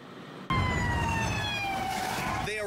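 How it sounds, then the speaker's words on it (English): Police and ambulance sirens wailing loudly and steadily as emergency vehicles speed toward a grocery store shooting scene in Boulder, the tone starting abruptly after a brief lower-level lead-in. "Police vehicles and ambulances speeding toward Boulder."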